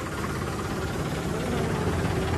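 Mini tractor engine turning slowly at about 540 PTO revolutions, driving the pump of a 1500-litre agricultural spray tank, a loud, steady low rumble mixed with broad mechanical noise, continuous and close.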